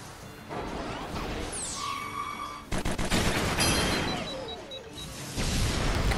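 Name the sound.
airstrike explosions in the video game Fuga: Melodies of Steel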